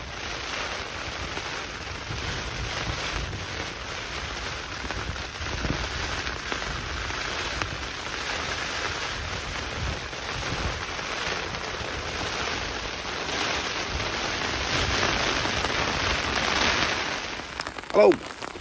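Steady wind and rain batter a tent during a wet, windy wild camp on Kinder Scout, a constant loud rushing patter that holds unbroken throughout, ending with a brief rustle.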